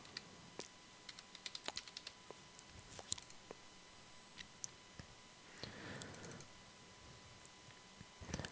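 Someone types on a computer keyboard with sparse, faint clicking keystrokes spread unevenly over a quiet background hum.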